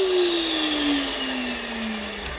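A pond vacuum runs in a loud, continuous motor drone whose pitch sinks slowly as it works, steady throughout with no voices.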